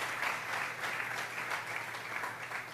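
Church congregation applauding together as an offering of praise during a sermon, a steady dense wash of clapping that fills the room at moderate level throughout.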